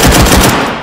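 Rapid bursts of automatic gunfire in the tactical shooter game Firewall Zero Hour, loud and close, with several quick shots in the first half before trailing off.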